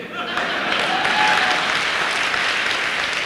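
Steady, dense audience applause fills the room, a loud continuous patter of many hands clapping with no pauses.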